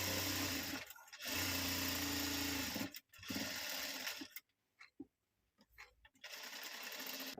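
Sewing machine stitching a side seam, loud rapid mechanical whirring in bursts separated by short pauses, with brief quieter gaps and restarts toward the end.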